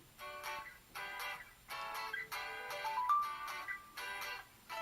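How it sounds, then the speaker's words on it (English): The "Chocolate" ringtone plays from an LG Exalt flip phone, a bright electronic melody of repeated chiming notes in short phrases, fairly quiet and alone. "let's say I want to hear what this ringtone sounded like, chocolate"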